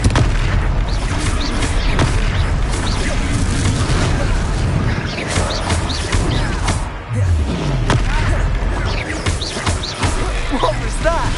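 Confringo explosion spell cast in the video game Hogwarts Legacy, a fiery blast amid heavy rumbling booms and thuds, loud and dense throughout with a short dip before more impacts.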